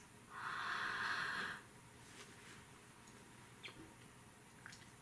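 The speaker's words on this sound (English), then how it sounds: "Close your eyes and take a deep breath in." One deep breath drawn in, a soft airy rush lasting about a second, quiet and close, followed by faint stillness with no talking.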